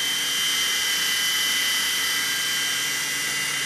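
Blade mCX remote-control helicopter flying indoors in high rate mode: a steady high-pitched rotor and motor whine, close and constant throughout, with no voices.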